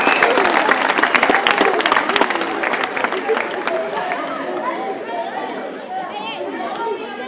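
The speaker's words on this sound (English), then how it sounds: "Let's clap it up for" Crowd applauding at a Stephen Curry basketball camp, loud close clapping that gradually thins out, with cheering and chatter mixed in and someone speaking over the tail end.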